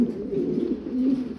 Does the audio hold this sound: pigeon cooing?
yes